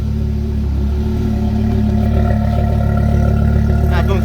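Audi RS3 engine with a rebuilt DAZA unit running in a garage while its exhaust flaps are tested, giving a loud, steady low rumble that rises slightly toward the end, with faint talk underneath.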